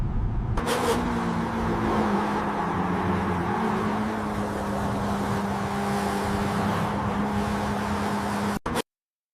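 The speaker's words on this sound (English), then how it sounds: "Make me a red car driving on the highway." A red car driving on a highway, AI-generated, giving a steady engine drone with a faint pitch shift midway that runs unbroken for several seconds and then cuts off abruptly.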